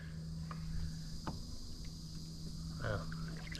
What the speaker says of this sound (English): Here a bunch of, I'm assuming, are insects